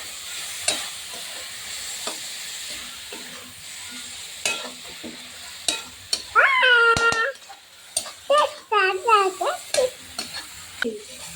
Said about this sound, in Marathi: त्यामध्ये सुकट टाकून घ्यायची आणि ते चांगलं मिक्स करून घ्यायचं